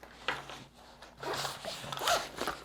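A zipper runs along a pocket of an Evergoods CHZ26 Civic Half Zip 26L V2 daily-carry backpack, with several close, raspy pulls in quick succession and no talking.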